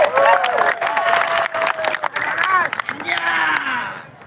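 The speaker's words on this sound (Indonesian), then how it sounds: "Tepuk tangan dong buat seluruh mahasiswa di sini." Crowd clapping for students at a joint student protest rally in Surabaya, a short burst of applause and cheering mixed with chanting voices and shouts throughout.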